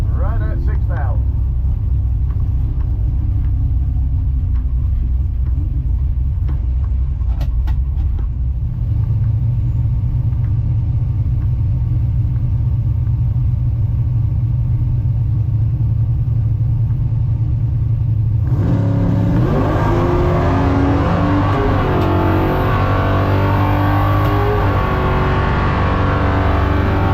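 A 1972 Dodge D100 truck engine rumbles loudly at speed, then a sharp rise in revving and roar near the end as it accelerates hard, with people talking over the cabin noise throughout.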